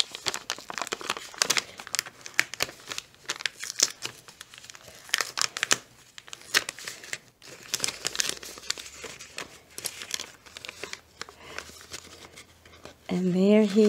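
A paper envelope mailed from Celebration, Florida is handled and torn open, with close crinkling and rustling in short bursts and brief ripping sounds, while a person talks over it.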